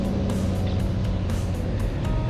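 A Cirrus aircraft engine pulled back to idle while landing on a bumpy grass runway at Gastons in the Ozark Mountains, giving a steady, loud low drone with no break and no talking.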